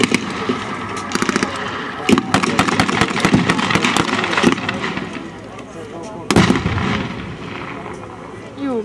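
A battle reenactment in which a tank is hit and disabled by anti-tank fire: loud sharp bangs and cracking shots in bursts, with one heavy blast late on, over continuous crowd and engine noise.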